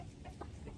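Garden chickens cluck softly in a brief, faint, close burst of a few short calls.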